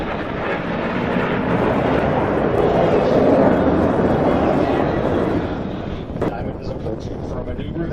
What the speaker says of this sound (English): Lieutenant Commander Hempel and Lieutenant Commander Webb will roll their aircraft to 90 degrees angle of bank and push forward on the stick